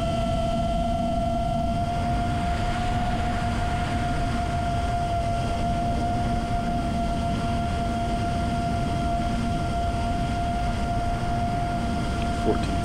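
An FPV racing drone flying over a reservoir at about 60 mph drones loudly and steadily with a constant buzzing motor whine and rushing wind noise, never letting up.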